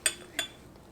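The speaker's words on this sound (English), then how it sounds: "And now we mix the ingredients together." A utensil clinks lightly against a container twice in quick succession while hydrogen peroxide and dish soap are mixed for elephant toothpaste. Each clink is short and bright, then a brief quiet follows.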